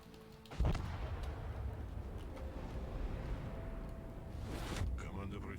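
Naval gunfire from the cruiser Cleveland in World of Warships: a heavy boom lands early and another near the end, over a dense rumbling battle bed with no clear speech.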